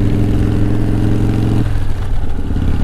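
A 1988 Harley-Davidson Softail Custom motorcycle engine idles close by with a loud, steady low rumble whose pitch shifts slightly partway through.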